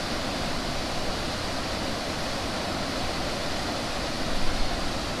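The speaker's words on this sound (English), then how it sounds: "The entire water which is basically flowing." Water flows at Dumboor Lake in Tripura with a dense, steady rushing hiss, loud and unbroken from start to finish and heard with no voices.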